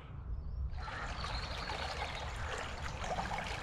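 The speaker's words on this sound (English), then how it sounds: "this is the source of the River Itchen" A small, clear stream at the source of the River Itchen in open countryside, a steady close trickle and babble of flowing water that continues evenly throughout, with no voices.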